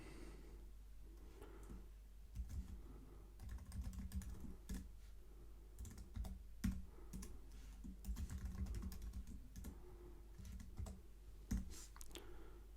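Quiet, close keystrokes tap out a password on a computer keyboard in irregular bursts of clicks with short pauses between.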